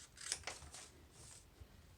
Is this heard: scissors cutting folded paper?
yes